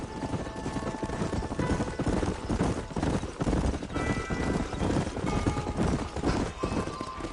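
Horses' hooves clip-clopping steadily in the Red Dead Redemption video game, a dense continuous rhythm of several animals riding together, with faint background rumble throughout.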